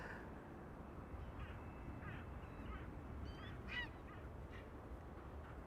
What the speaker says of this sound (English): Daisy Duck and the ducklings at a crossroads